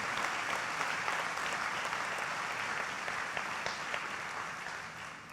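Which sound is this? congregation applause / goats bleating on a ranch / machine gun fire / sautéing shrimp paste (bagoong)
congregation applause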